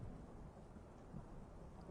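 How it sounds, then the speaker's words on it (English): Steady rain with a low rumble of thunder in a radio drama set in the Hatfield and McCoy feud, a continuous dense wash of storm noise with no voices. "I don't like the rain."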